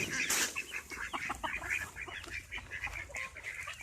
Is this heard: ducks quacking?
yes